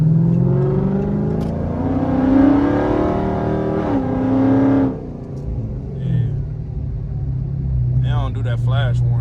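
A Chrysler 300C Hellcat engine revs up, its pitch climbing over several seconds before dropping back to a low idle rumble, loud and close, with a few brief vocal sounds near the end.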